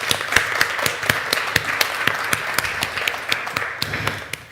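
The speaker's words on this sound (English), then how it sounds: "I'd like to give a warm round of applause to those three leaders that we see on the screen" An audience applauds at a women in live music research workshop in Cape Town, a steady patter of many hands clapping with sharper individual claps poking through, continuous and fairly loud for several seconds.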